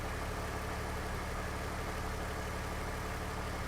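BMW E39 car engine idles with a steady, loud, unbroken rumble and hum, close by, with no talking.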